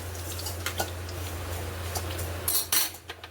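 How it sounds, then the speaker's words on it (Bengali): A steel spatula scrapes and clinks against a cooking pan during tempering: sparse metallic taps over a low steady hum, with a louder pair of scrapes near the end. "কাঠের খুন্তিটা খুঁজে পাচ্ছি না তাই এই স্টিলের খুন্তি দিয়েই করছি"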